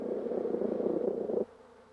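A honeybee scout buzzes steadily on the comb for about a second and a half during its waggle dance inside the hive, a close, continuous drone that then cuts off sharply.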